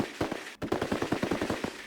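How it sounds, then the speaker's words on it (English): Rapid crackling string of bangs from a small fireworks show in the video game Red Dead Online, about a dozen sharp pops in quick irregular rhythm, moderately distant. "There was only a small fireworks show."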